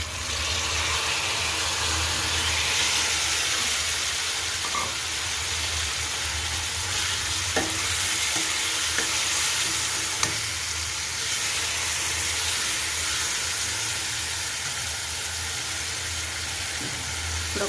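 Four medium cut tomatoes for tomato pappu fry in a pan, giving a continuous, fairly loud broadband sizzle with faint clicks and knocks throughout.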